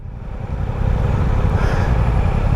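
Suzuki GSX-8R motorcycle engine under way, a steady loud low rumble that swells after the first second and holds constant, with rushing wind noise over it.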